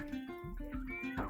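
A cat's meow sampled as a percussive hit in the Spyro 2: Ripto's Rage! game soundtrack, recurring in short tonal bursts within a steady electronic beat and sustained synth notes, with no talk.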